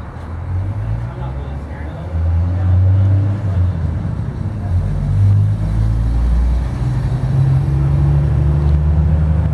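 A big block Chevy V8 with Torker intake manifold, Holley carburetor and Bassett wet stacks idles in a 1979 Challenger jet boat, a steady loud low rumble that swells slightly partway through.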